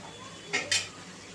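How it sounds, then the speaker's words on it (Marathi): Washed rice tipped into a pan of oil-fried potato, vegetables and soybean chunks, giving two quick close rattling clatters against the metal pan in a quiet kitchen. "आता आपण ह्याच्यामध्ये ॲड करायचा आहे तांदूळ"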